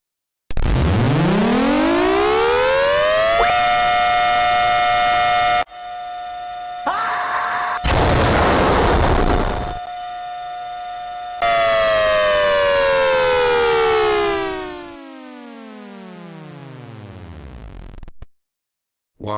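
A loud "Thunderbolt"-type civil defense tornado siren is tested nearby. Its tone winds up, holds a steady wail with chopped and pulsing interruptions, then winds back down over about twenty seconds.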